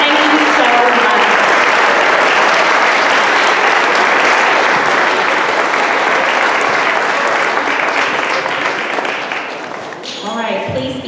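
An audience at a Veterans Day ceremony gives sustained, loud applause, a thick roar of clapping that fades slightly near the end as a voice begins speaking.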